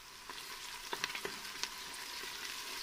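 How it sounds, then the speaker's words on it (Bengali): Onions frying in oil inside a pressure cooker for a beef curry give a steady, fairly quiet sizzle, with a few sharp clicks and scrapes of stirring in the first half. "তেল দিয়ে আমি এখন পেঁয়াজটা একটু হালকা সিদ্ধ করে"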